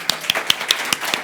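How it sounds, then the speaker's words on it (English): Audience applause for a startup speaker at a talk comes through as a short burst of sharp, evenly spaced claps, close and distinct, as if from only a few hands. "Big applause for Tomer."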